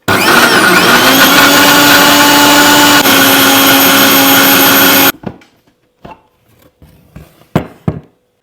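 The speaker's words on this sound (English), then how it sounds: "now that the peppers are well blended" A kitchen blender grinds peppers for Nigerian akara, a loud, steady motor whir running close for about five seconds before cutting off, followed by a few soft clatters and knocks.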